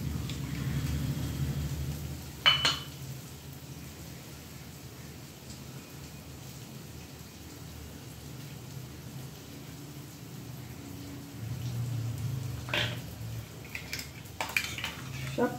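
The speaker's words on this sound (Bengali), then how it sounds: "এই জলটা দিয়ে আমি এই মিক্সির বাটিটা ভালো করে ধুয়ে" Water sloshes inside a mixer grinder jar and pours into a wok while aarh fish in mustard-poppy paste cooks, giving a steady rumble broken by two sharp clattering bursts of metal and splashing.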